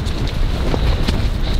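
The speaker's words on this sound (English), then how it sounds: "It's a bit windy." Strong wind buffets the microphone outdoors on a Scotland road trip, a steady loud roar with low rumble and gusty bursts, no voices.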